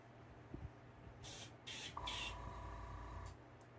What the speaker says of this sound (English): Airbrush is sticking a little bit from last use